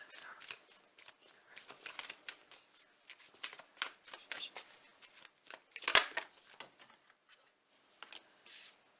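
A deck of cards is shuffled repeatedly, with crisp riffling bursts and soft flicks in an irregular rhythm, close and fairly quiet.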